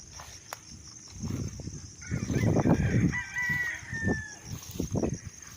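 A rooster crows loudly and close by on a farm lot, a long drawn-out call rising over scattered clucking and rustling from nearby chickens.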